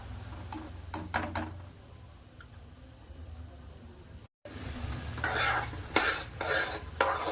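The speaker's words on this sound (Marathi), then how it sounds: "आता मी हे पुरण छान घोटून घेणार आहे." Puran, a sweet lentil filling, being mashed and stirred in a pot, with scraping and clinking strokes in bursts over a low steady background, pausing briefly before resuming more vigorously.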